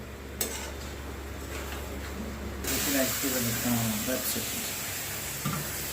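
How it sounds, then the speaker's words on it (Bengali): Hot water hits a hot pan of mutton being cooked kosha-style and sets off a sudden loud, steady sizzling hiss after a quieter stretch of cooking sounds, with a voice talking underneath. "গরম জল দিয়ে নাও। একটু গরম জল দেওয়া হলো।"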